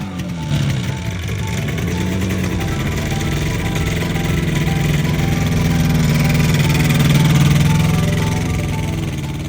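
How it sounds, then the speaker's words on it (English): Yamaha RD 400 motorcycle engine running steadily nearby, a loud continuous two-stroke buzz with slight pitch shifts as the revs rise and settle. "here he is taking his first ride in 25 years on his beloved RD 400"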